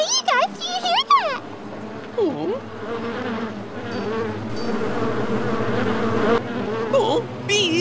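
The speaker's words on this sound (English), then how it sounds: "Oh, bees!" Cartoon bees buzz in a steady, droning swarm that holds throughout, with high, squeaky cartoon character voices and exclamations over the start.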